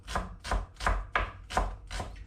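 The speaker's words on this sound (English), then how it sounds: "Chop." Kitchen knife chopping food on a board while making guacamole, six steady rhythmic chops, close and clear, with no voices.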